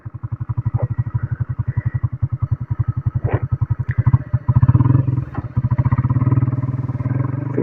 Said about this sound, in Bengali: বাইকটা একটু চালিয়ে দেখায় আপনাদের